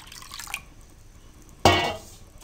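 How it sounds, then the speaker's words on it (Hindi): Water is poured into a bowl of semolina while making makhandi halwa, a brief splashing burst after quiet dripping sounds, close and alone with no talk. "अब आप सूजी में दोबारा पानी डाल दें"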